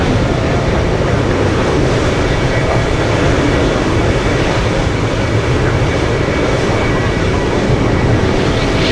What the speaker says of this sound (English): SF Airlines, 747 flying in from China.